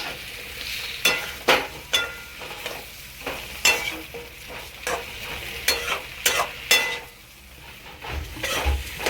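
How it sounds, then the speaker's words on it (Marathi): Drumstick pods are sautéed in a pan, with a spatula scraping and knocking in irregular strokes over a soft, continuous sizzle, close up and with no talking. "शेवग्याच्या शेंगा त्या पण परतून घ्यायचे आपल्याला व्यवस्थित."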